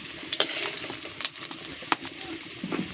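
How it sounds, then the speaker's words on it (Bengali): Potatoes fry until reddish in a pan while being stirred, a steady sizzle broken by sharp scraping and clinking strokes of the spatula, close and alone. "কত সুন্দর করে লাল লাল করে ভাজা করে নিয়েছি আলুটা"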